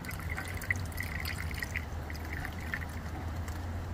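Windshield washer fluid trickles from a gallon jug into the reservoir of a 2024 Tesla Cybertruck, a faint, continuous gurgling pour with small irregular drips, close by and without talk.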